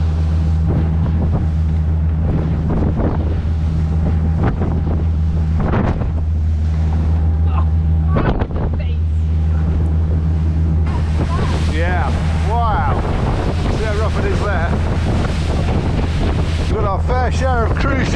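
A motorboat riding across waves in strong wind: constant engine drone and heavy wind buffeting on the microphone, with splashing water and slapping waves, and people talking now and then over the noise.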